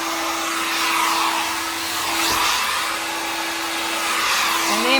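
Loud, steady rushing air from a blower, like a hair dryer, sweeping over wet acrylic paint in a Dutch pour, with a constant motor whine underneath and gentle swells in the airflow throughout.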